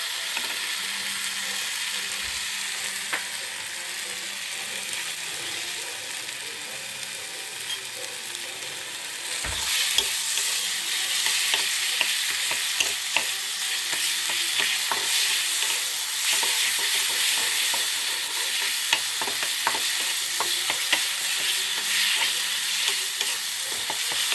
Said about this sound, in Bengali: মশলাটা ভাজা হয়ে যাবে তেল ছাড়িয়ে গায়ে লাগবে না